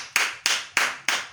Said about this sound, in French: Applaudissons le président Amout.